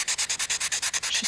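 Quick back-and-forth rasping strokes of sanding a hole in a wooden Ugears U-9 Grand Prix Car model chassis part, about a dozen even rubs in close, crisp succession.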